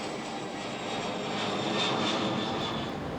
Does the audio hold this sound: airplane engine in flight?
yes